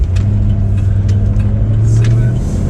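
The 5.0 engine of a 1993 Ford Mustang Foxbody drones heavily and low from inside the car as it accelerates under throttle, a steady rumbling growl that rises slightly near the end.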